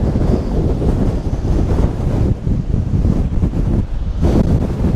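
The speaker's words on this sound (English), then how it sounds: "That wind is pushing me." Strong wind by the shore roars hard and constantly into the microphone, a dense, loud buffeting rush with no pauses through the whole stretch.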